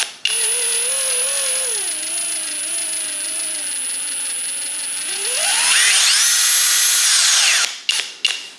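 A cordless power drill with a variable speed trigger, all-metal chuck and 2.5 amp-hour battery whines steadily, then revs sharply higher for a few seconds before stopping with brief clicks, loud and close.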